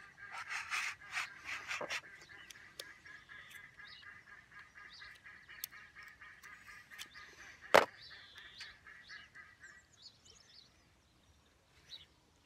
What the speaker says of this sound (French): Ah non, c'est les canards.